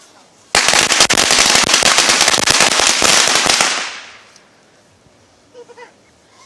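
A long, dense string of firecrackers goes off loud and close for about three seconds in rapid crackling bursts, then fades into quiet with a few faint pops afterward.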